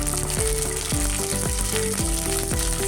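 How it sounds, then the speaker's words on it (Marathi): Tomatoes fry in a pan with a loud, dense, continuous sizzle, close up, and no talk over it. "आता आपण हे टोमॅटो टाकून घेऊयात"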